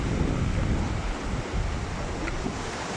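Strong sea waves pound an island shore, a constant roaring surf mixed with gusty wind buffeting the microphone, loud and unbroken.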